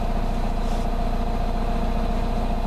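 A car engine fitted with a Streetglow exhaust tip idles at night, giving a steady, even low rumble that stays constant throughout with no other sounds.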